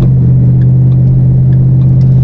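A 475-horsepower Ford Mustang GT engine hums and builds smoothly, a strong low drone holding steady and loud with slight rising revs.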